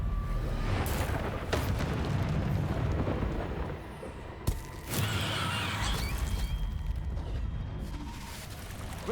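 Confringo fire curse explosions in Hogwarts Legacy, a dense roar of blasts and crackling debris running loud and continuous, with a sharp burst near the middle after a brief dip.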